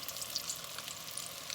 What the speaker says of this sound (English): I'm gonna finish up frying